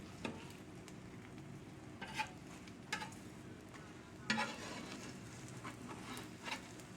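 A jalapeno, onion and cheese omelet fries quietly in a pan, with a soft steady sizzle broken by a few light taps and scrapes of a utensil.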